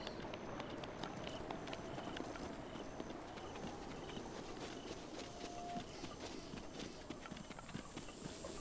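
A horse galloping in Zelda Breath of the Wild, with steady clip-clop hoofbeats running throughout at a constant loudness over a busy game soundscape.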